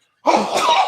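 A single sharp sneeze bursts out close by after a moment of silence in a motorcycle workshop, short and loud with a breathy release.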